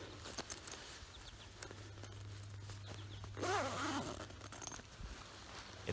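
The zipper on an Outdoor Vitals Atlas Hybrid 30F sleeping bag is pulled open, making quiet scratchy zip strokes and small rustles of fabric, close up, with no talk.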